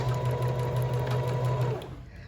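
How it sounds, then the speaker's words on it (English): A sewing machine stitching and backstitching through a fabric sample, its steady close motor hum and rapid needle chatter running loud and alone before stopping near the end. "Stop, pull up my pin, and then keep going. And then I'm going to backstitch."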